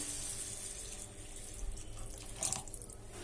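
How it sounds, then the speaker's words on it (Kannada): Water pours steadily into a pan of pineapple gojju masala, a soft continuous splashing rush heard up close with no talking. "ಇದಕ್ಕೆ ಒಂದು ಆಟಗ ನಾನು ನೀರು ಹಾಕ್ಲಿಕ್ಕತ್ತೀನಿ"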